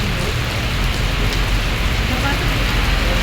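Heavy rain pouring down in a dense, continuous hiss, loud and close, with no breaks.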